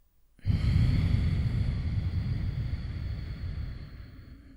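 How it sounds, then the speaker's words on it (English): A long, steady exhale through the nose during a breathing exercise, close to the microphone, starting suddenly and fading gradually over several seconds. "And exhale through the nose"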